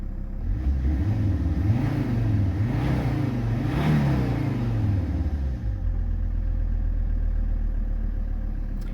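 A diesel car with an Alfa-style JTD engine revved several times in a row, each rise swelling and falling back to a steady loud idle rumble close by, with no talking.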